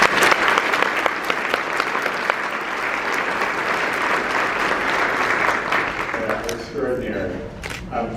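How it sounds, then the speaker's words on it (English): Sustained applause from a large audience, dense and steady throughout, thinning slightly toward the end. "Let me first ask all of you to join me in another round of applause for Judge Dennehy and the amazing Marissa."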